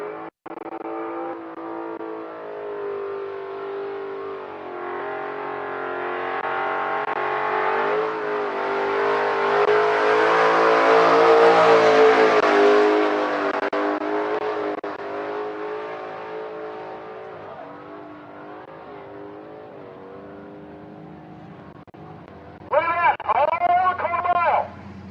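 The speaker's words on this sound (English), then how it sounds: "a big block Chevrolet, and he's going to do what they call a skid. This is an Austin burnout" A big block Chevrolet engine roars through an Austin-style burnout at a drag race event, its sustained rev swelling to a loud peak and then easing off, with a brief voice at the end.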